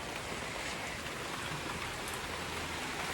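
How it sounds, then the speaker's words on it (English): Steady rain falls across a garden, a dense even hiss of drops landing on surfaces close by, with no voices and no breaks for the whole stretch. "Oh, it's so rainy."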